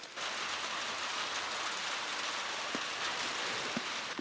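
Steady rain falling on a farm in cold winter weather, a dense, even hiss of drops with a few brighter individual splashes, close and continuous, with no voices.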